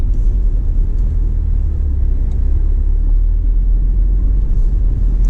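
A Range Rover Velar R-Dynamic SUV climbs off-road, producing a continuous loud low rumble of engine and road noise, steady and close, with no speech.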